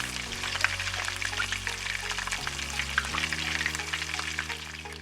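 Onions and garlic sauté in a pan, sizzling and crackling steadily at close range under a low background hum, with faint stirring and no talk.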